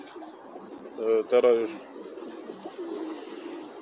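A male pigeon of the Von der Wouwer line gives a short, throaty coo close by, two soft pulsing phrases, while someone speaks a word nearby in a quiet room.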